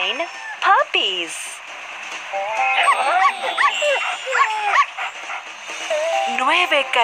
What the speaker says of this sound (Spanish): Nine puppies.